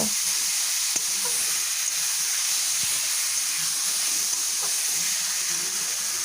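A steady sizzle of radish paratha filling frying in a pan, with a few faint scrapes of stirring, continuous and close.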